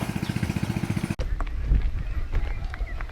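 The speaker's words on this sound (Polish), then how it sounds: "Zjechaliśmy z drogi, żeby pokazać Wam pierdelion kaczek." A large flock of ducks quacks and honks in a loud, continuous chorus, first rhythmic and dense, then a rougher mix of calls and rustling after a sharp break.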